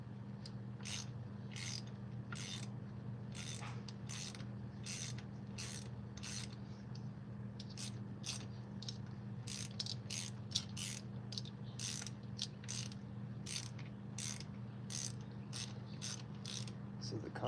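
Repeated ratchet clicking in quick bursts as head bolts are loosened on an old, tired Chevy 305 V8 from an El Camino, steady and close over a constant low hum, with no talking.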